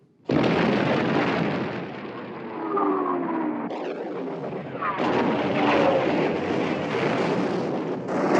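Warship guns fire in a 1960 naval battle film about sinking the Bismarck, heavy booming blasts and rumbling roar sustained across the scene, loud and dense with overlapping detonations.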